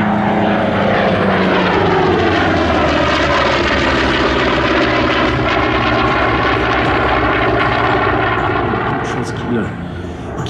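Vought Corsair warbird propeller engine at an air show, a loud, close, continuous throaty roar with shifting harmonic tones as the throttle is advanced, while a commentator talks over it.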